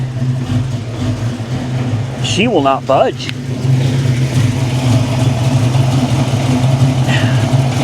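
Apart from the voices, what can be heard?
1993 Ford Mustang GT engine revving, stuck on lift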